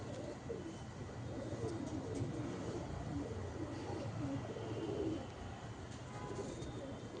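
Andhra Lalful male pigeon cooing in a loft, soft repeated low coos over steady background noise with no talking.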